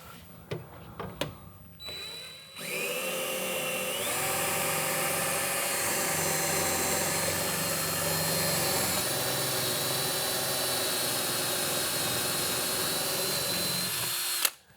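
Power drill with a larger bit boring into an arcade game cabinet: a few short clicks and handling knocks, then a loud, sustained, steady whine and grind running continuously for about twelve seconds up close before stopping abruptly.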